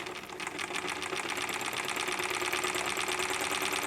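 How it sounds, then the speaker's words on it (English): An MSS side tank live steam model locomotive on one of its first runs gives a steady, busy mechanical chuffing and clatter with a fast regular rhythm, close and fairly loud throughout, with no voices. "This is one of the very, very first runs of this engine, straight from the MSS factory."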